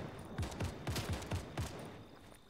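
Sniper fire in Fortnite: a quick series of about seven sharp shots spaced irregularly over two seconds, moderately loud, then fading to quiet background.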